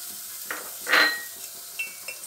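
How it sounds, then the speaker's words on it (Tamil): Sliced carrots stir-fried in oil with dried red chillies in a pan, with a soft sizzle under a few clinks and one louder scrape of the spoon. "கொஞ்ச நேரம் அப்படியே அந்த எண்ணெயிலே நல்லா அதை பொன்னிறமாக வதக்கிக்கோங்க"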